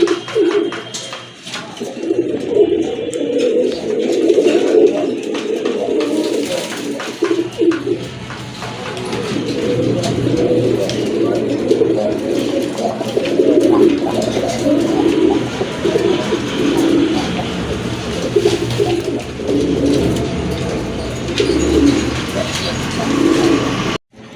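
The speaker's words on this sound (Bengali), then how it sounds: "আরেক জোড়া কবুতর, চিলা কবুতর, খুবই সুন্দর এক জোড়া কবুতর" A pair of Chila pigeons, feather-footed, coo steadily and close at hand, their low rolling calls repeating throughout, with a few faint chirps and thin chatter in the background.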